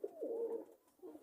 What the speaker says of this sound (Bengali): একটা জেনারেশন আছে বেনারস কবুতর, খুব ভালো দম করে